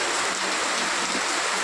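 Rain falling in a dense, steady hiss, continuous and fairly loud throughout, with no voices.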